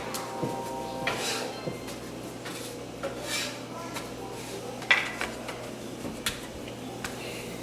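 Pita bread being flipped in a pan while baking makes faint clinks and scrapes of cookware and utensils, a few scattered sharper knocks over a low steady hum, with no talk.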